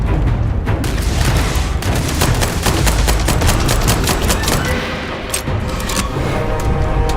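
Rapid gunfire in a video game rattles in dense bursts of loud cracks and booms, nearly continuous with a brief lull, no voice over it.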